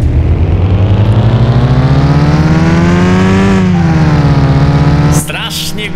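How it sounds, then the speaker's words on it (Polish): A loud 145-horsepower, 925 kg car in a mechanic simulator game roars on a race track, its engine droning and slowly rising in pitch, then easing off before cutting back sharply near the end. "Strasznie głośno, kurde, strasznie głośny ten samochód."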